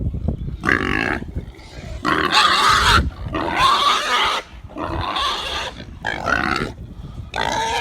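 Pigs grunting and squealing at feeding time in a farm enclosure shared with sheep, loud close bursts in repeated clusters with short pauses between them, no talk.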